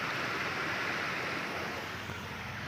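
Meltwater rushes steadily out from under snow in the mountains between Kaza and Manali, a loud, constant broadband roar with no pauses, heard close.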